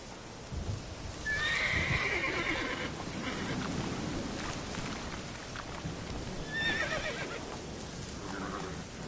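Horses neigh loudly twice in The Witcher 3, with galloping hooves and rain pattering underneath a steady game soundscape.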